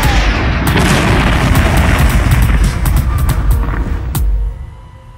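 An airstrike explosion in the trailer for the 2019 film Blackbear, a loud booming blast with rumbling debris and scattered sharp cracks, holding for several seconds before fading out at the end.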